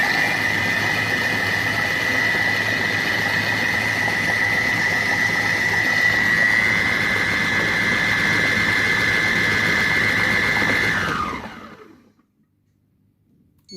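A Compact Cook Pro food processor blends soup with eggs and coriander at speed 5 rising toward 7, a loud steady motor whine with a high squealing tone that stops abruptly near the end, leaving silence.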